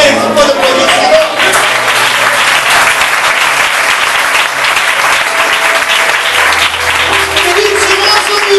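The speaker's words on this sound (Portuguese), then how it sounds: "Você pode aplaudir o Senhor?" A church congregation applauds steadily and fairly close, a dense wash of clapping holding for several seconds, with a low hum and faint voices beneath.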